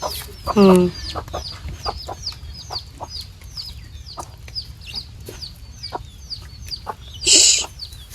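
Chickens in a Bengali village cluck and squawk near a rural home as they come to eat fish, with a loud squawk at the start and another near the end over a steady outdoor background.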